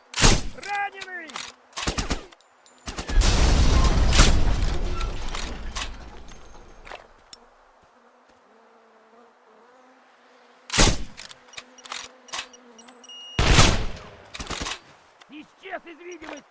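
Rifle gunfire in the video game Sniper Ghost Warrior 2 comes as a few loud, sharp shots spread across the stretch, with in-game voices talking between them.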